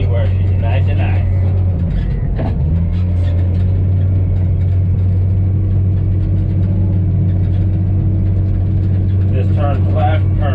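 A Komatsu D51 PX22 bulldozer runs with a steady, deep engine drone while tracking and packing soil, loud and close throughout, with someone talking over it.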